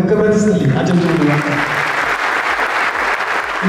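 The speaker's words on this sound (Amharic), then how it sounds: "አጨብጭቡ።" An audience at a celebration honouring a veteran artist's 68th birthday bursts into loud, sustained clapping that fills the hall, with a voice speaking over the start before the applause carries on alone.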